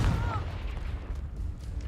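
A Confringo fire-blast spell cast in the video game Hogwarts Legacy: a heavy, booming burst at the start trailing into a rumbling crackle, with faint voice beneath.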